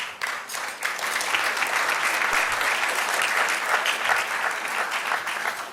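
Applause fills the room at an awards dinner, a steady roar of many hands clapping together at close range that swells slightly and holds for several seconds.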